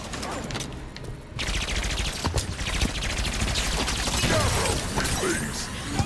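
Dense gunfire in the video game Halo 5 during a firefight around a Ghost vehicle: rapid, loud automatic bursts and crashing impacts, continuous throughout, with no speech.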